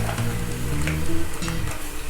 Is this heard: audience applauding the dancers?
no